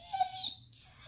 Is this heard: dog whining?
yes